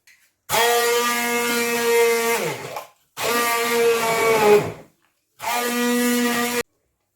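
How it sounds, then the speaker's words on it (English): A hand blender whirs loudly through turnip in three long bursts, each running a couple of seconds with short pauses between, its pitch wavering slightly as it works. "use the hand blender"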